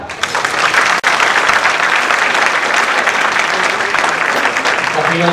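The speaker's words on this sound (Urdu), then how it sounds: "آپ کی بھرپور تالیاں وزیر اعلیٰ پنجاب محمد شہباز شریف صاحب کے لیے" Audience applause for Punjab Chief Minister Shehbaz Sharif at a dinner with students from Balochistan, a loud, continuous wash of many hands clapping that lasts throughout, with a voice surfacing faintly near the end.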